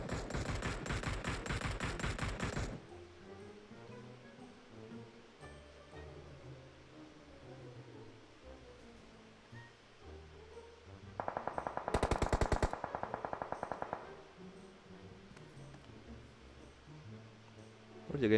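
Rapid automatic gunfire in a battle royale game, a long dense burst up front and another sustained burst later, loud and rattling over quieter game ambience with faint voices between.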